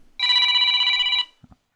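A phone ringer trills in one steady electronic ring lasting about a second, loud and clear against silence, followed by a couple of soft knocks.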